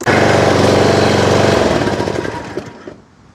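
Small engine on a John Deere Z225 riding mower with a blown head gasket and carburetor trouble, roaring loud and close with a rough, rapid chug, then sagging and fading as it dies off choke.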